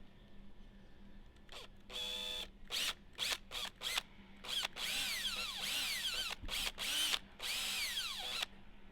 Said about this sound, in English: So let's drill this up here.